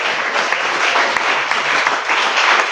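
A church congregation at a Spanish-language service claps steadily and densely for about three seconds, a loud, continuous wash of hands with no voices on top.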